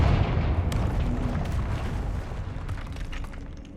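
A Confringo blast spell in Hogwarts Legacy erupts in a sustained, rumbling explosion, a dense low roar that stays loud for several seconds with faint crackling bursts on top.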